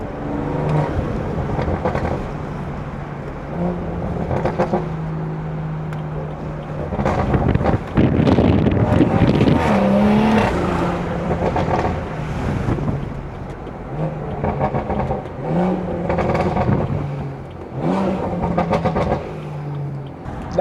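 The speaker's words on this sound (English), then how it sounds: "Listen to that intake." A stage 2 BMW 340i with a B58 engine roars loudly through intake and exhaust, with long rising and falling pulls, burbles and wind rush from a moving car, and a person speaking briefly over it.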